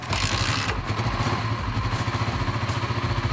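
A Kawasaki KLR 250 motorcycle engine runs just after being kick-started, a loud, close, steady idle with a rapid low thumping pulse and mechanical clatter throughout, no talking.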